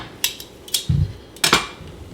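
A knife trims fat off the edge of a steak on a board, giving a few sharp clicks and scraping knocks in quick irregular bursts, close and fairly loud with no talking.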